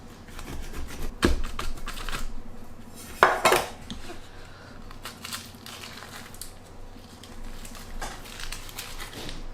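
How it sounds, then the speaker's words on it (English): A knife is run around an apple cake to free it from the baking pan, giving close metallic scrapes and a few sharp clanks against the tin, with quieter rustling between. "So run a knife through and take the cake out."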